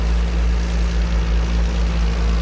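New Holland T7060 tractor, a roughly 8-ton, 250-horsepower machine pushing down field ridges to plant sugarcane, its engine running as a loud, steady low drone with no talk.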